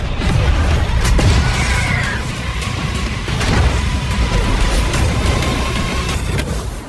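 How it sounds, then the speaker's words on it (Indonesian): Bridge blown up in an action film scene, heavy low booms and crashing debris under a dense, continuous roar, with short sharp impacts breaking through. "Kelinci berhasil kabur dengan meledakkan jembatan dan seluruh pasukannya pun juga kabur."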